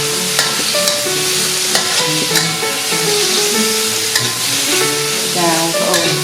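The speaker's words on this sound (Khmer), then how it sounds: "ចាឆាបង្គាយើងឲ្យរីងឆ្អិនតិចមក" Shrimp stir-fried in a hot pan to dry and cook through: a continuous close sizzle with rhythmic scrapes and clanks of a spatula against metal throughout, no voices.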